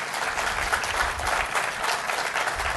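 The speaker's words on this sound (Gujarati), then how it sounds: "આપે તો ખૂબ તાળીથી અભિવાદન કરીએ" An audience at a Sanskrit lecture event applauds, producing a continuous, fairly dense clapping that holds steady for a few seconds.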